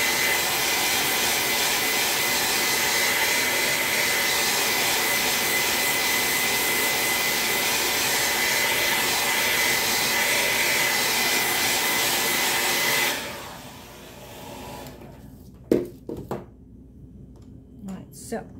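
A hair dryer blows steadily and loudly to dry paint on a stencil, a continuous broad whoosh that cuts off abruptly partway through, leaving quiet room sound with a few small knocks and handling noises.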